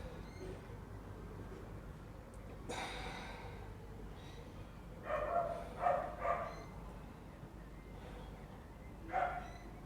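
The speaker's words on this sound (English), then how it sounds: "Dog's joining in down the road, that's great." A dog barks a few times somewhere down the road, distant and faint, in a short cluster of yelps and then one more later, over a quiet room.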